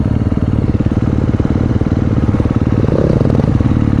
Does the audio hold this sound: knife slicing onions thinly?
no